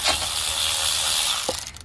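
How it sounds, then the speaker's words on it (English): An electric ratchet spins a differential brace bolt on a Nissan 370Z or Infiniti G37, a close steady whir with a few quick clicking bursts at the end. "electric ratchet"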